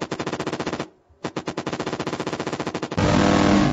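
Rapid automatic gunfire from shooting enemies in a slow video game, loud dense bursts broken by a brief pause, then a harsher sustained blast at the end.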